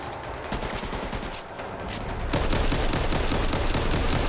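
Video-game gunfire in the zombie shooter Back 4 Blood: a dense, continuous fusillade of rapid shots, steady at first, then growing louder and heavier midway as more weapons join in.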